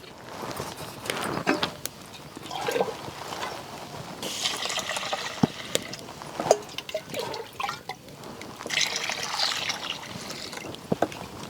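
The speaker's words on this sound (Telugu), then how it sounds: "రైస్లో నీళ్ళు కూడా వేసి" Water is poured into rice in a vessel, a close run of splashing, trickling and dripping with intermittent louder pours and small knocks of the pot.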